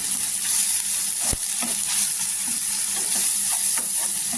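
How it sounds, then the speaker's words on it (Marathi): Ground spices frying in hot oil for a spicy dried-fish vakti chutney, a steady bright sizzle with occasional soft stirring taps and no talking. "छान असे मसाले आहेत ना तेलावर परतून घ्यायचं."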